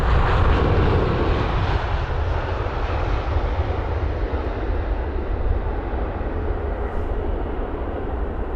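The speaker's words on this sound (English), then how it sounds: "There's the Emirates 380. Just slowly taxiing." An Emirates Airbus A380, seven years old, taxiing slowly at London Heathrow, its engines giving a steady, loud broadband roar that holds evenly throughout with no voices.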